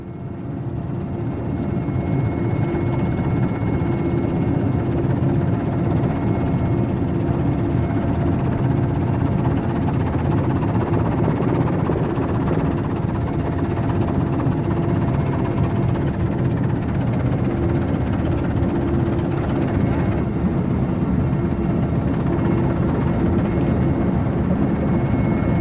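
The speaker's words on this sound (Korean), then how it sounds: "취재팀은 헬기를 타고 팔미라시의 상공을 날았다." A helicopter flies over the city of Palmyra, its engine and rotor making a loud, steady, continuous drone that stays constant for the whole stretch.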